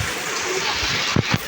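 Cold waterfall water rushing in a steady broadband roar, close and loud, with a couple of brief low thumps near the end.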